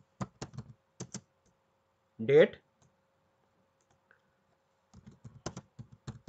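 Typing on a computer keyboard, with bursts of sharp clicks at the start and end separated by a quiet gap, and a person speaks briefly in the middle.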